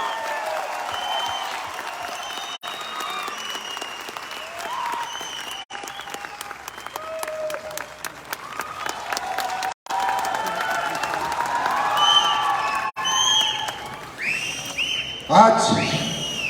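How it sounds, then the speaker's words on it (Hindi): Sustained audience applause with cheering and scattered whistles fills a large crowd at the Jashn-e Bihar 2023 AWPL event, swelling loudly toward the end. "ऐसी तालियां बजनी चाहिए"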